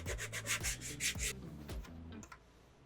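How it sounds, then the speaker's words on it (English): A Mandalorian heavy infantry helmet is sanded with a styrene block faced with 220-grit paper, giving quick rhythmic rasping strokes close up, then slower, quieter rubbing. "Got the majority of the sanding on this helmet."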